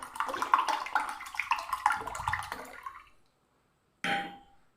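Ice water is poured into a bowl with sugar for a cold, sweet summer drink: a steady splashing pour for about three seconds, then silence and a brief separate rush of sound.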